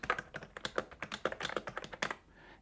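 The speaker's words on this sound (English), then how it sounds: "The sound the keyboard makes is very pleasing." Rapid close typing on an RGB gaming keyboard with padding under the keys, a dense run of soft, muted clicks and taps that stops at the end.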